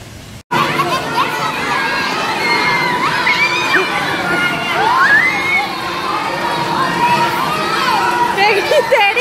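A crowd of children shouting and cheering at a children's museum, a loud continuous roar of high excited voices filling the space, with chatter mixed in throughout.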